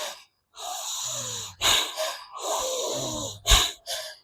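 Bhastrika pranayama yoga breathing: forceful, rapid nasal breaths in short bursts, sharp snorting exhalations and gasping inhalations separated by brief pauses, close and loud with no talking.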